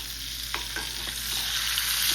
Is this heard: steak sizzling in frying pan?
yes